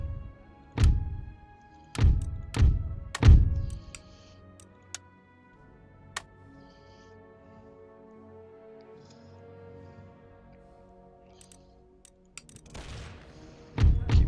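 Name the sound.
artillery firing in Empire 2 mod video game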